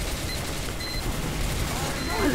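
Heavy's minigun in Team Fortress 2 Mann vs Machine, firing at robots as a continuous dense rattling stream of gunfire with game noise, fairly quiet and unbroken throughout.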